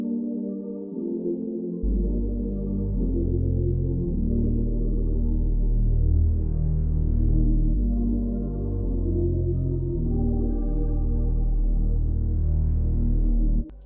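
A lush, layered synth pad swells with long reverberant tails, sustained chords shifting slowly under a deep low bass, steady and fairly loud throughout.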